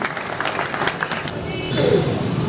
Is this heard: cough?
no